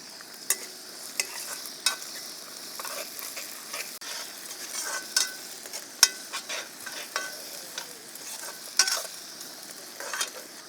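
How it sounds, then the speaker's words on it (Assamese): Onion, ginger and garlic fry in a pan over an outdoor cooking fire, a soft continuous sizzle broken by frequent sharp scrapes and clinks of stirring, fairly quiet and without voices. "আমাৰ পিঁয়াজ আদা ৰহুনখিনি ভাজা হৈ গ'ল।"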